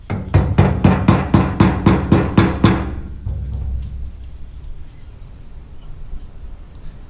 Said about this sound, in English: Hammer the lock ring backwards, clockwise, on the little raised tangs.